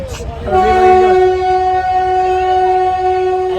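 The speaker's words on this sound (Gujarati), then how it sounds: "એવું ટ્રેન અવાજ આવે છે ને તમને?" A train horn sounds at a closed railway crossing, a long steady harmonic blast holding for several seconds after a brief onset, loud and near, with a low rumble underneath.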